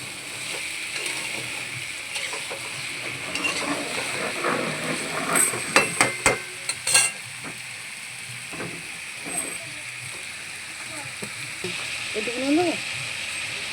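Lote (Bombay duck) fish being stirred and fried in a pan, a steady hiss with scattered scraping clatters of the spatula, louder bursts in the middle, while a person talks over it.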